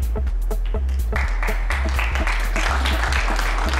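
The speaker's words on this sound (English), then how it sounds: "a round of applause for the commentator who called it" A snooker audience bursts into a short round of applause, a dense patter of clapping at moderate distance, with rhythmic thumping underneath.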